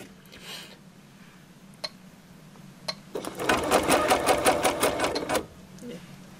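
An embroidery sewing machine runs a basting stitch during a cutwork coaster stitch-out, a fast rattling needle rhythm that starts after a start-button click and a few quiet ticks, then runs steadily for about two seconds before stopping, with a low background hum throughout.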